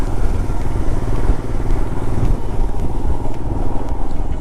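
Motorcycle engine droning steadily during a morning ride toward Gudalur, with wind rush and road rumble, loud and close with no speech.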